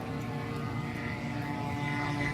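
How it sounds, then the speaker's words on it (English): A Supermarine Spitfire's 12-cylinder Rolls-Royce Merlin engine drones steadily at an air show, a sustained propeller-plane roar holding constant and fairly close. "The Spitfire was a British airplane powered by a 12-cylinder Rolls-Royce Merlin aircraft engine."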